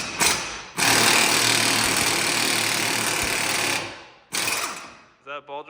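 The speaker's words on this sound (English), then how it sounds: "Is that a ball joint press?" A ball joint press forcing tight parts into drilled-out holes on an engine build. It gives a loud, steady grinding drone for about three seconds, then a shorter second burst, and a voice follows briefly at the end.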